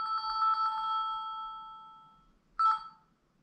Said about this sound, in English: Sorry, that was a phone call.